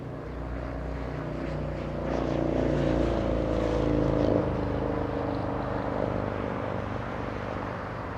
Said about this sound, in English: Little SkyWest lifting off in the distance.